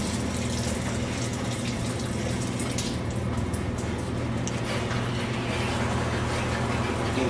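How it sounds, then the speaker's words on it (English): Water gushing steadily as a greenhouse pad pump is forced on and fills the tank, a constant loud rushing wash with a low pump hum underneath, continuous and close throughout. "You can see the water is coming, percolating."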